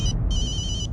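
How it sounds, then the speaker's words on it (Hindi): A telephone ringing in a Hindi radio drama: a short, bright electronic trill that rings in two close bursts, loud and alone over a low background rumble, with no talking. "अब ये इंस्पेक्टर का फोन क्यों आ रहा है?"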